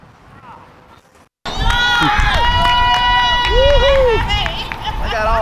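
A crowd whoops and shouts loudly right after a giant tree comes down on a house, following a brief quiet moment, with overlapping excited voices.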